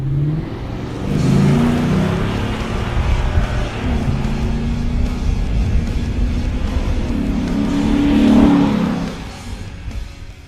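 A Ford Raptor truck fitted with a 6.2L engine drives around the block, its loud engine droning steadily with swells of revving near the start and again around the eight-second mark.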